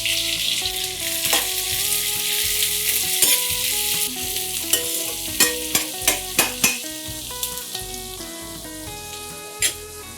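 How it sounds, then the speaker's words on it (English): Cumin seeds, Indian bay leaves, dried red chillies and sliced red onions frying in hot oil give a loud, steady sizzle with stirring scrapes, under plucked background music with sharp notes toward the end. "Once the oil heats up, let's begin with cumin seeds, a couple of Indian bay leaves, dried red chillies, and along with this, sliced red onions."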